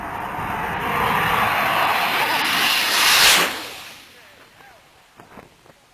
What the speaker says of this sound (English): he wouldn't flinch while a jet did a low pass over him